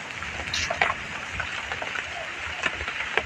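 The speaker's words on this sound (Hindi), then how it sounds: "हमारे यहाँ तो आज बारिश हो रही है" Rain falls steadily on a rural home beside a road and fields, a continuous close hiss with scattered sharper drips landing on nearby surfaces.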